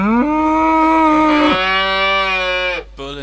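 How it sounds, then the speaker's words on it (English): Cattle in the video game Agricultural Simulator 2013 give two long, loud, close moos one after another, the second starting abruptly as the first ends, then a brief third call begins. "So we've got a cow."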